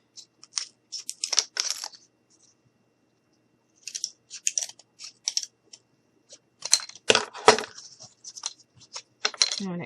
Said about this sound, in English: I'm just going to grab my scissors because that's what I have here. And just cut the ends off.